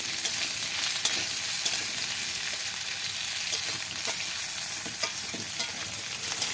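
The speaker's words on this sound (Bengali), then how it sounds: "একের পর এক ভেজে নেব সমস্ত সবজিগুলো।" Mixed vegetables for Gota Shashthi chorchori fry in a pan with a continuous, even sizzle, close by and steady, broken only by faint occasional crackles and stirring clicks; nobody speaks.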